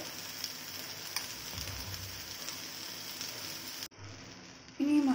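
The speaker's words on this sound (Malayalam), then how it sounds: "ഇനി ഇതിലേക്ക് ആവശ്യത്തിന് ഉപ്പ് ചേർത്തതിന് ശേഷം നന്നായി ഒന്ന് ഇളക്കി 1 minute കൂടെ ഫ്രൈ ചെയ്യാം" Okra and peanuts frying in a pan with salt, a continuous close sizzle and crackle that briefly drops away before resuming louder with a faint utensil scrape.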